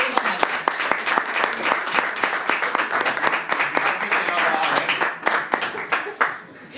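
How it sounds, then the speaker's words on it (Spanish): Audience at a Tolkien reading day in Madrid applauds a reader with sharp, distinct claps forming uneven bursts that thin out and fade near the end, with some voices underneath. "un aplauso para Lidia Miguel"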